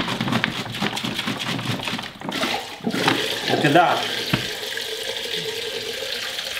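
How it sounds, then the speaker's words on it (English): Water gushes fast out of a swirled plastic water bottle with a busy splashing rush that thins out toward the end, while a person speaks briefly over it. "let's try and empty this water."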